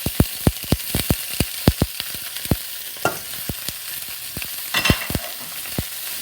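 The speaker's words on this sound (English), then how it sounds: "So you want to hear that sizzling?" Ground meat browning in a pan for homemade Sunday meat sauce, sizzling steadily close up while a spoon scrapes and stirs in sharp repeated taps throughout.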